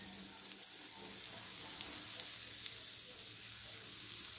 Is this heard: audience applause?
no